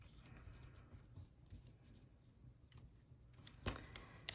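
Paper is torn by hand in short quiet rips, ending with one sharper tear near the end, close and soft with no voices.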